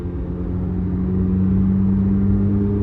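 A Chevrolet Corvette C8 Z06 fitted with ported 91mm Soler Performance throttle bodies accelerates with a loud, steady engine drone that rises slightly through a first-to-second gear shift, heard from inside the car.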